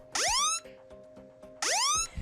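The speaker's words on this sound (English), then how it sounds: "The phone dropped from the roof has a trashed screen and is making some rather odd noises." A damaged iPhone X with a trashed screen after a drop from a roof emits odd electronic noises: two sweeping rising chirp-like tones a second apart with faint clicks between, quiet and close.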